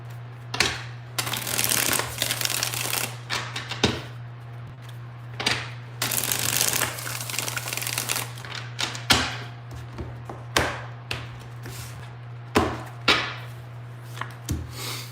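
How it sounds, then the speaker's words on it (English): Hand shuffling of a tarot deck in a reading, long riffling bursts early giving way to a run of sharp separate taps and slaps as cards are squared and dealt, close over a constant low hum. "Two more shuffles, two more."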